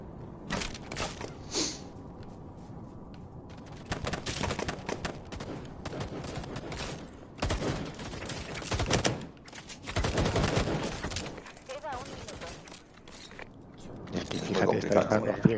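Bursts of rapid gunfire and crackling shots ring out in a competitive match of the VR shooter game Firewall, loud clustered volleys with short gaps between them, with players talking over the action.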